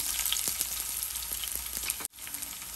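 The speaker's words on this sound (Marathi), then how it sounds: "यात आपण आता लसूण घालूया, मिरची घालूया आपण." Garlic and green chili hit hot oil with cumin, giving a steady, loud, broadband sizzle with scattered crackles, briefly cut by an edit near the end before it resumes.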